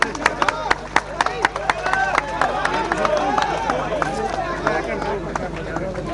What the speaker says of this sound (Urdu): یہ تالیاں لگائیں نا ذرا زور سے